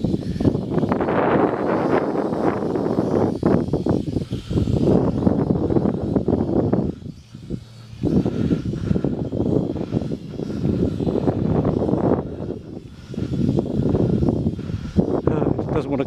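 A Hawkins Bazaar recon drone is flown in 25 mph wind, its rotor whine mixing with heavy wind rumble and microphone buffeting that surge and dip throughout, with a voice speaking over it at times.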